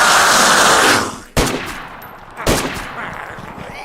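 Gunfire from a gun in the video game DayZ: a loud burst of rapid shots, then two sharp single cracks about a second apart, each trailing off, with no talk.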